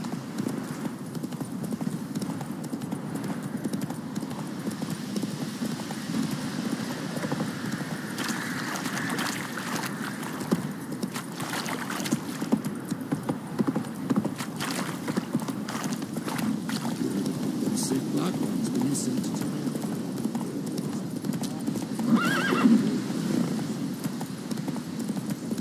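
Roach, a horse in The Witcher 3, gallops with a steady, rhythmic clip-clop of hooves over a continuous low rumble, with a brief neigh near the end.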